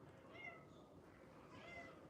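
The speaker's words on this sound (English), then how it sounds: "That's my cat." A pet cat meows faintly indoors, two soft drawn-out cries in quick succession, quiet and somewhat distant.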